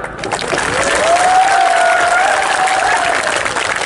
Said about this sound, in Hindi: द्रौपदी मुर्मू के लिए सब ताली मारो।